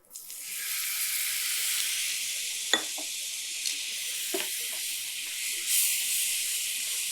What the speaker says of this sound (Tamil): இந்த மசாலாவில் இந்த தண்ணி சேர்க்கும் போது